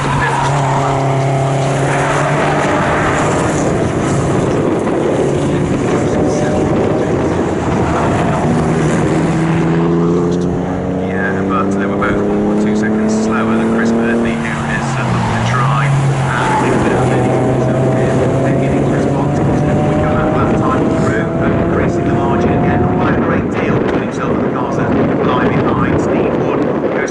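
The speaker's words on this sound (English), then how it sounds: "the 5th place car, which is just heading over the start-finish line now" Race cars at the Snetterton circuit sweep past with rising and falling engine tones, several overlapping passes and gear changes at moderate distance, while a commentator talks steadily over the noise.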